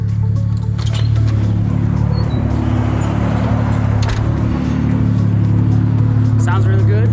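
Widebody BMW with an N55 engine and big single turbo runs close by, a steady loud low drone with faint whistly turbo tones above, with people talking over it.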